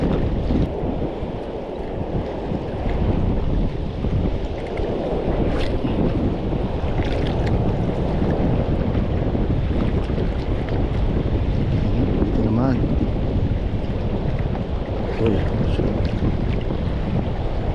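Strong wind buffets the microphone in a constant low roar for the whole stretch, with faint splashing of water beneath it and no voices, during shore casting fishing at a lake.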